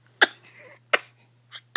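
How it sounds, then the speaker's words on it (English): A baby coughs while waking up, three short sharp coughs spaced apart over a quiet background, near and fairly soft. "Somebody's waking up and got a cough."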